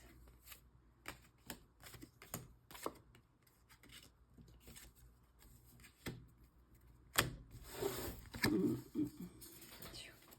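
Large tarot cards shuffled by hand in short, uneven bursts of flicking and riffling, close up, with pauses between and a faint bird cooing in the background.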